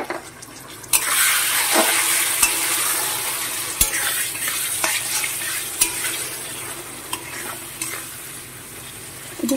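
Spice paste with prawns is stir-fried in oil for a Bengali banana flower curry, a loud steady sizzle with a spatula scraping and clicking against the pan at irregular intervals, close up.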